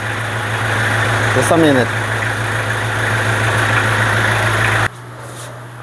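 A car engine idles with a steady, loud, close hum and a short whine partway through, then cuts off abruptly, leaving near silence. A person speaks briefly over the running engine.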